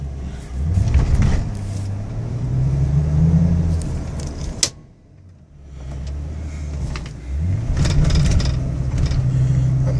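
A 2002 Ford Excursion Limited engine idles and runs in four-wheel low range, a steady low rumble with rising revs and clunks, briefly dropping quieter midway before the engine note returns.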